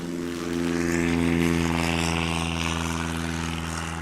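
A Super Cub light aircraft's piston engine and propeller drone steadily at a STOL competition in Jennings, Louisiana, with a strong harmonic buzz that swells slightly and then holds loud and close for the whole stretch.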